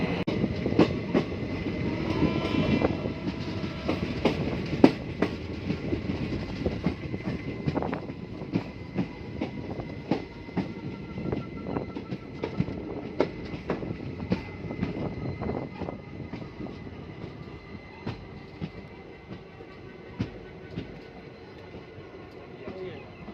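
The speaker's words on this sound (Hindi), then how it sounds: "अब हम आ चुके हैं इस साबरमती एक्सप्रेस के फर्स्ट हॉल्ट" Inside a coach of the Sabarmati Express passenger train, wheels clatter over rail joints in a steady clickety-clack with sharp intermittent knocks, under a continuous rumbling roar of the moving train.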